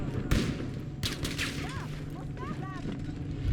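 Gunfire in the shooter Battlefield V: sharp shots and bursts ring out amid a busy battle din, moderately loud under a speaking voice.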